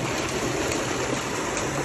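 Steady broadband rush of water pouring from a solar-powered tubewell pump outlet, a continuous close gush with no pauses for the full length and no voices.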